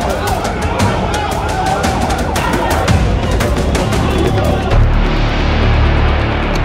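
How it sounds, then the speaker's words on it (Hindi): Ambulance sirens wail loudly as ambulances pull up outside a hospital in the West Bank, one after another. Voices and street noise mix with the sirens. "एक के बाद एक एम्बुलेंस फ्लैश"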